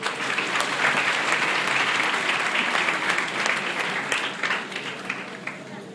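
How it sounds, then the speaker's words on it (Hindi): An audience at a community program claps together, a loud, dense burst of applause held steady for several seconds and then thinning slightly toward the end, with no speech over it. "I would request all of you to please clap for it."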